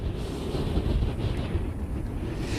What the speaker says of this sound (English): it's just as windy out here